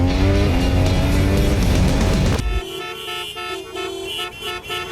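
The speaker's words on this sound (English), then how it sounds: "My chance to drive a single-seater race car with no speed limits, no pace car in front stopping me." A single-seater race car on a track roars loudly at close range for a couple of seconds, then the engine noise drops away to a quieter, tonal hum.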